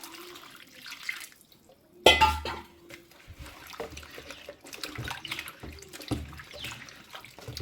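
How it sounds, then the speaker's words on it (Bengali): Cut raw mango pieces being washed in water in a bowl, with splashing and sloshing, clinking of a vessel, and a tap running, close by and moderately loud after a quiet start. "আর জল দিয়ে খুব ভালো করে ধুয়ে নেবো আমটা"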